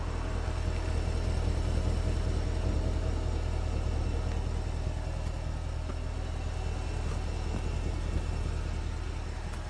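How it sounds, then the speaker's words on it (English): A 2012 Porsche Cayenne S with its big V8 idling, a steady low rumble with an even burble from the rectangular exhaust tips, constant and close with no talking. "Let's see if you can get a little audible on the idle here."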